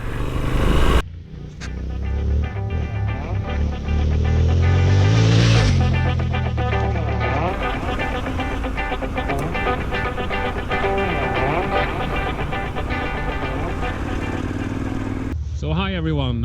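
A Yamaha Ténéré 700 motorcycle rides off-road on hard-packed track, its engine droning steadily and loud throughout with a rising surge early on, wind and clatter over the top.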